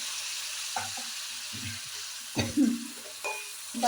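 Onion and chili powder sautéing for a fish curry, a soft frying hiss punctuated by several scraping stirs and clatters, with a short splash as salt water is poured in.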